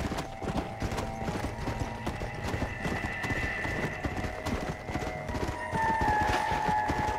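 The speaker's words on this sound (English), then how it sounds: "There's a horse that's probably better than mine." A horse gallops with rapid rhythmic hoofbeats and lets out a whinny in Red Dead Redemption: Undead Nightmare, amid game ambience.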